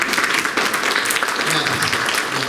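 Audience at a parent conversation session for first to fourth grade families gives steady, enthusiastic clapping that fills the whole moment, dense and continuous at close range.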